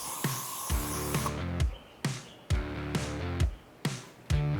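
A detailing product meant for cars and motorcycles is sprayed from a trigger bottle onto a cloth in several sharp, hissing bursts a second or so apart, heard up close.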